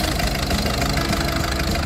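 A 2011 Peugeot 308 engine runs close up with a continuous rough, knocking idle, its uneven chugging steady across the short stretch with no voices.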